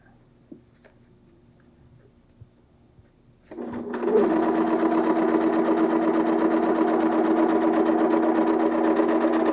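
Sewing machine stitching leather, starting after a few quiet seconds of faint clicks and then running steadily with a loud, close mechanical whir and rapid needle ticking, alone without talk.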